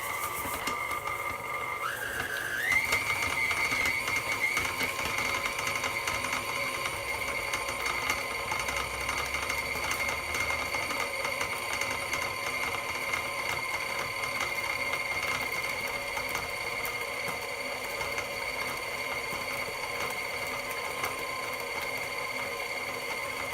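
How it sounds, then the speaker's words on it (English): KitchenAid stand mixer running at medium-high speed, beating cream cheese and sugar: a steady, moderately quiet motor whine that holds for the whole stretch with no talking. "I'm going to turn our KitchenAid stand mixer on medium-high speed for about 2 minutes to allow our cream cheese and sugar to mix"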